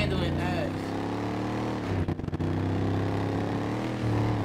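A 400-horsepower car engine in a driving video game drones loud and steady, with a sustained low hum and a brief dip partway through. Voices talk over the engine.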